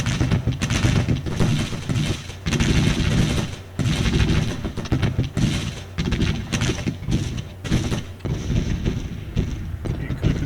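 Civil War game battle with gunfire directed at an artillery battery, dense continuous crackling musketry and booming volleys that pulse and rumble without pause, loud and close.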